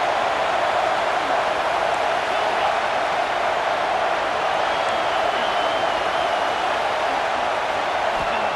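Steady, dense stadium crowd roar from EA Sports College Football 26 as fans rally behind the defense on a big third down, a continuous loud wash with no break across the whole stretch.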